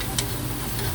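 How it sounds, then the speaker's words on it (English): Garlic and lemon zest sauteing in a pot, a soft continuous sizzle with faint crackles and a couple of brief ticks, steady and close. "I'm just going to saute this so you can smell the flavor and the aroma of the garlic and lemon zest."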